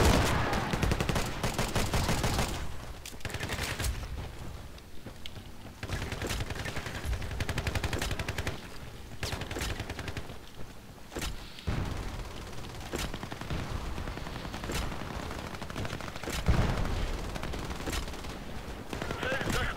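Gunfire from a Spas-15 shotgun in a video game comes as dense, loud bursts of blasts and rapid shots, mixed with other weapons and game effects across the whole stretch.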